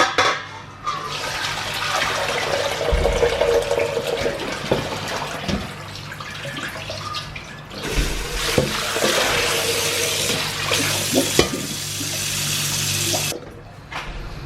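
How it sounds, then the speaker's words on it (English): Blood and liquid drained from a heavy pot of bone marrow bones for broth, water gushing and splashing steadily for most of the time with a brief lull midway, close by and without talk. "I'm going to spin it out, and I'm going to just drain all the blood."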